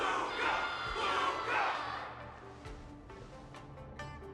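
Crowd cheering for Luca in the Honkai Star Rail video game, a loud roaring swell of many voices that peaks early and then fades to a quieter murmur with scattered shouts.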